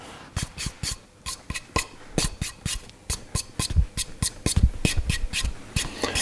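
Rhythmic rubbing and scratching strokes across a violin plate surface, a close, dry rasping pattern of quick repeated passes with short pauses, no talking.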